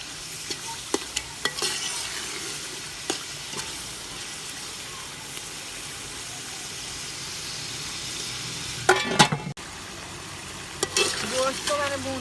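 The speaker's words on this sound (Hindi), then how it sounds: "इसी के साथ चिकन भी शामिल कर लेंगे। इसे अच्छी तरह से भून लेंगे।" Chicken and meat stirred and fried in a pot for biryani, a steady sizzle under repeated scraping stirs, with a louder clatter of stirring near the end.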